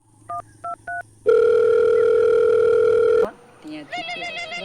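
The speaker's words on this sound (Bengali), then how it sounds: "আমি আমার ভাইকে ফোন করছি" Three short dialing beeps, then a long steady telephone tone for about two seconds, followed by a shift to a warbling ring pattern.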